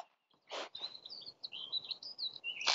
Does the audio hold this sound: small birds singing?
yes